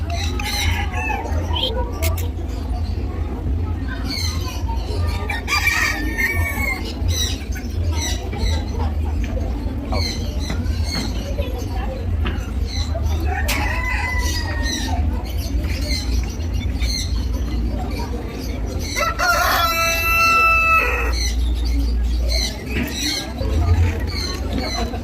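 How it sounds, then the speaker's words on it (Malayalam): Chickens at a paid sightseeing spot in Kollam cluck busily and a rooster crows, with fairly loud, continuous fowl calls over a low background hum and people talking nearby. "കോഴികളുടെ കളകളാരവം."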